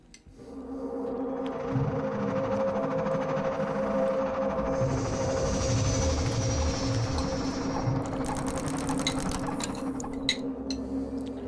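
Train pulling into Gare d'Austerlitz station in Paris, a steady loud rumble and hum with rising metallic whine and rattles, continuous throughout with no talk.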